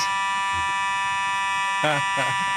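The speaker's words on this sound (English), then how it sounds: "a fire alarm here at our GPP studios, to be exact" A fire alarm sounds in a TV studio during a Georgia governor debate as a steady, shrill electronic tone that runs unbroken under a brief spoken voice.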